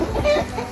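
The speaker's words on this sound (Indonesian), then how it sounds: "ini ayam favorit saya, ayam petarung lama asli Indonesia, Black Sumatera" Clucking from a Black Sumatra, an old Indonesian fighting chicken breed, close by in a short burst of soft clucks with light farmyard background noise.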